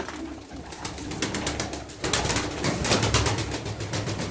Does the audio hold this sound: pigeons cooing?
yes